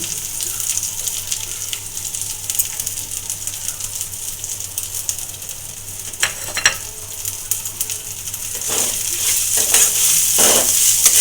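Spice paste of ginger-garlic with turmeric, chilli, cumin and salt fries in a pan with a steady close sizzle, broken by occasional stirring scrapes and taps that grow busier toward the end.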